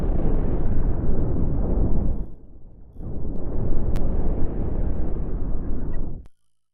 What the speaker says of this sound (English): this quantum torpedo barrage, it's gonna hurt.